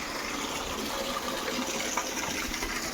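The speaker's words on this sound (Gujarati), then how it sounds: "બારે માસ અહીંથી પાણી નીકળતું રહે છે." Spring water flows steadily from the Gaumukh temple outlet in a forest setting, a continuous, dense rushing gush that stays even and close for its whole length, with no voices.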